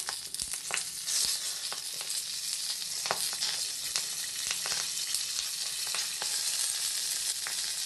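Steady sizzling of fish frying in hot oil in a pan, with occasional sharp pops and crackles, close and moderately loud, no voices.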